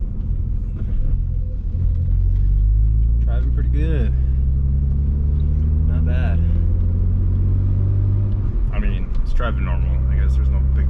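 An Audi S4 drives along, with a low, steady engine rumble and road noise from inside the cabin, shifting pitch as it gathers speed; someone talks briefly over it several times.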